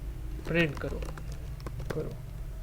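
Keys tapped on a computer keyboard to enter a Linux echo command, a few quick close clicks with someone talking over them.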